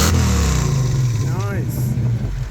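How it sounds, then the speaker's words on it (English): A 1965 Mustang engine fitted with a Holley Sniper fuel injection system revs loudly and steadily up close, a continuous throaty rumble lasting the whole clip, with a voice speaking over it. "Rev it up, Reggie."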